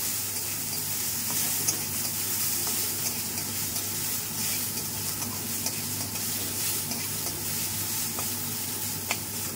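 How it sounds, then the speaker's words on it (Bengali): Bitter gourd slices fry in a nearly dry kadai, giving a steady close sizzle broken by occasional scrapes and taps of a spatula as it is stirred, with no voices. "এইভাবে একটু উচ্ছে ভাজবো, বেশ ভালো লাগে খেতে।"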